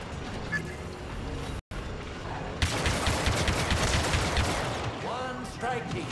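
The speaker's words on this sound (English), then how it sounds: "When I open fire, you know what to do." Rapid bursts of blaster fire in a Star Wars Battlefront II firefight, loud and continuous, with voices talking over the shooting and a brief dropout near the start.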